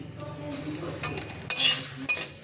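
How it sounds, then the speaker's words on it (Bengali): Whole spices dry-roasting in a hot dry pan for jujube (kul) pickle, with a spoon stirring and scraping against the metal in quick bursts and a soft crackle underneath, close and fairly loud. "এই শুকনো খোলায় ভেজে নেব।"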